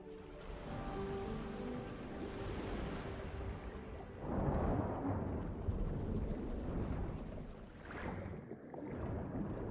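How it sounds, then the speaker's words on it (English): Water rushing into an empty sluice gate chamber in the Genshin Impact video game, a heavy roaring surge like crashing surf that swells midway and then rolls on with deep rumbling. "That will fill the empty middle chamber with water."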